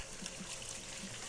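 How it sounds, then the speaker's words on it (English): Water runs steadily from a kitchen tap as hands are washed beneath it, giving a soft, even hiss and splatter that is close and quiet, with no talk. "now let me wash my hands real quick."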